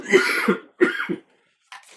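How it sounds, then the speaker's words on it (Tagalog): A person coughs in two hoarse bursts close to the mic, then a short faint throat sound after a pause, indoors during a tongits card game. "Inuubo na po tayo."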